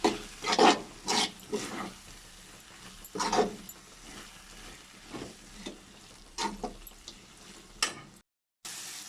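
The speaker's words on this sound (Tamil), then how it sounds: "இப்போ வறுத்து வச்ச இந்த பவுடர் கொட்டி அதையும் மிக்ஸ் பண்ணிக்கலாம்" Roasted spice powder stirred into chicken in a pan, with scraping strokes and soft sizzling coming in irregular bursts, close and fairly quiet, then a brief cut to silence near the end.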